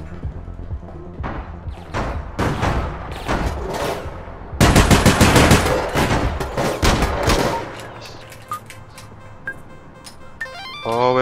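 Gunfire in the online shooter APB: Reloaded during a 3v3 waterfront mission: repeated loud shots and sustained automatic bursts, dense and close, then trailing off into scattered quieter sounds.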